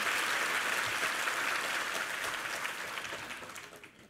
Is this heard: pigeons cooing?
no